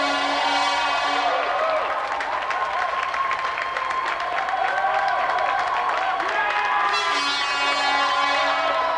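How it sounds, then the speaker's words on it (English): A television audience gives a champion a round of applause, with dense, sustained clapping and cheering that fills the whole stretch at a steady, loud level while a voice speaks over it. "let's have another round of applause for a true champion, Shango Stapleton"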